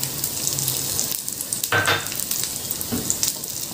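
Zucchini and meat sizzle and fry in a pot while a spoon stirs through them, giving close scraping and bubbling over a continuous crackling hiss, with no talking.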